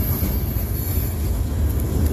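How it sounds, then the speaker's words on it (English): A CSX freight train with coil cars rolls past close by, a steady loud rumble of wheels on rail with a faint high squeal above it. "Here comes some coil cars."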